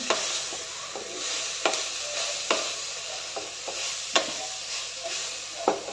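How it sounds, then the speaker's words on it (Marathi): Spoon stirring coriander powder into a bitter gourd curry in a pan, with a steady sizzle and sharp scraping knocks at irregular intervals, close and moderately loud, no talking. "एक चमचा धने पावडर सर्व मिक्स करून घेते"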